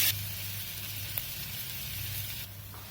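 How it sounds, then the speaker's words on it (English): Onions sautéing in a pan for matar paneer give a steady, soft sizzle with a faint hiss throughout, no voices. "we will saute our onion"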